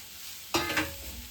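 A few fried chicken pieces drop into frying masala and get stirred: a sudden clatter and scrape, then a brief sizzle against a low frying hiss.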